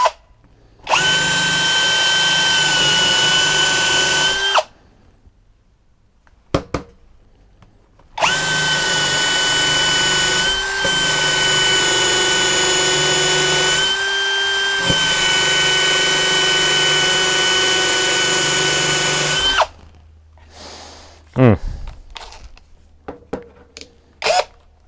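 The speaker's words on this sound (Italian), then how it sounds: "Cambiamo legno e andiamo a forare. Sono curioso di vedere la qualità delle punte in dotazione, quindi proviamo la 6 da legno." A Mensela ED-LX2 brushless drill boring into wood with a 6mm wood bit, two long steady high-pitched whines separated by a silent pause, with brief clicks and handling noises afterward.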